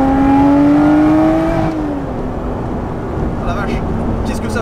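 A Lotus Exige 430 Cup's engine holds a high, rising rev that suddenly drops off, followed by a rougher lower drone. Faint crackles from the exhaust come near the end, all heard from close by inside the car.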